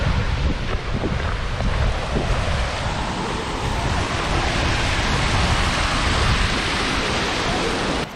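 A small waterfall in Iceland near the Vatnajökull glacier makes a continuous broadband rush of falling water, heavily mixed with strong wind buffeting the microphone.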